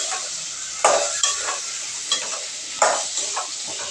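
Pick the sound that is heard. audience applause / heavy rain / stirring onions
stirring onions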